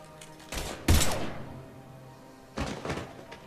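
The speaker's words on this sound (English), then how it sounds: "Now open fire!" Gunfire from the Mass Effect 3 video game: a few sharp, loud bursts of shots, one heavy blast near the start and another cluster of shots later, with no talk over them.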